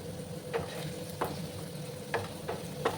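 Potatoes frying in mustard oil in an uncovered pan, a steady low sizzle with occasional sharp pops and stirring clicks spaced a second or so apart.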